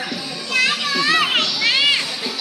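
Children playing and splashing with water at a Songkran festival street celebration, their high, lively shrieks and excited calls rising loudly over a dense, noisy crowd background.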